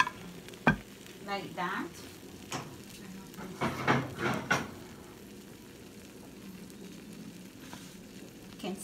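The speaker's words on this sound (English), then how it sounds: "You can still hear it sizzling on top of the plate." Freshly fried coconut shrimp resting on a plate give off a faint, crackling sizzle close by, with a few louder pops and clatters early on, then a steady soft hiss; a voice speaks briefly.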